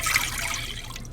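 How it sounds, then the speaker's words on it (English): About two cups of water pour continuously into a cooking pot for rice, a close, rushing splash that tapers slightly toward the end. "So we're going to add 2 cups of water."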